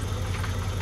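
A car engine idles steadily just after starting, a continuous low rumble with a faint knocking texture that stays close and even throughout, with no voices.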